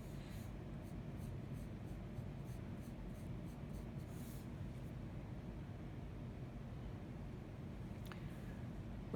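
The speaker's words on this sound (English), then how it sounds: "See how I use my eraser almost as much as I use the pencil lead?" Pencil drawing on paper, with an eraser also in use: a steady, faint scratching and rubbing runs close and continuous, with no talking.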